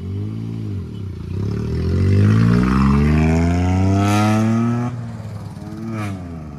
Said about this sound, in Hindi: एक्सीलेटर ज्यादा दे, जान दे